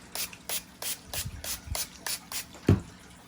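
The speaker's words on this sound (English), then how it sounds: "what I'm going to do is I'm going to spray it down," A hand spray bottle mists the tongue of an Air Jordan 1 "University Blue" sneaker in a series of soft, quick, regular squirts, close but quiet, ending with a small bump.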